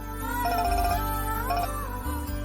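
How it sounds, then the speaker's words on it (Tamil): A melodic mobile phone ringtone plays loudly and close in a Tamil television drama, a bright electronic tune with shifting notes over a low background hum. "மாமா ஃபோன் பண்றாரு."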